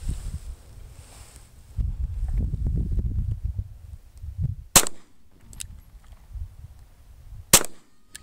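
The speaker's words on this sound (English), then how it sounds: "I'll also shoot at one of those pumpkins" A Shield 9mm pistol fires at pumpkins outdoors: two sharp, loud, separate shots a few seconds apart, after low rustling and handling noise.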